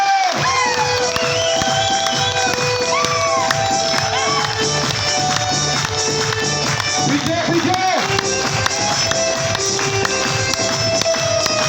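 Audience at a business motivational event clapping and cheering, with shouts and whoops rising over steady applause, loud and crowded, voices mixed in throughout.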